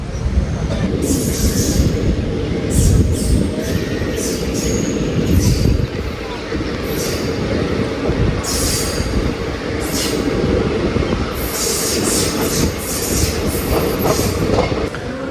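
A passenger train on the Ernakulam–Guruvayur line in Kerala, heard from on board as it nears Thrissur, rumbles loudly and steadily along the track with rhythmic wheel clatter and repeated high metallic squeals.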